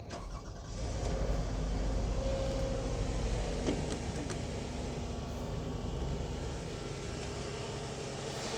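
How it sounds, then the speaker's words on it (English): The 3.5-litre V6 engine of a 2015 Toyota Sienna FWD minivan cranks and catches, then settles into a steady, low idle rumble that continues evenly to the end. "And we are going to start the vehicle."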